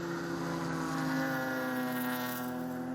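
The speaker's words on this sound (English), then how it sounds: "You can hear that burble every time he goes to throttle." Race car engine in a Super Touring Under event at the 2016 SCCA Runoffs, a steady loud, tonal drone with a rough, burbling edge that swells slightly under throttle, heard with no talking.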